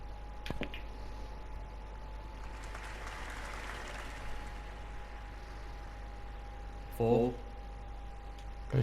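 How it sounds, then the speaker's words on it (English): A capacity snooker crowd at Barnsley claps and cheers during a NatWest International 2021 semi-final, a faint, diffuse patter of applause heard at a distance beneath a steady hum, followed by a brief sharp click. "And gets a big cheer from this capacity crowd here at Barnsley."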